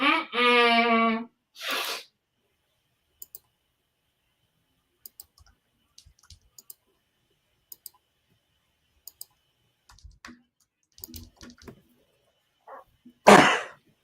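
A person sneezes loudly during a race-watching livestream: a voiced, drawn-out burst followed by a sharp noisy sneeze, then light clicks and faint sounds before another forceful sneeze near the end.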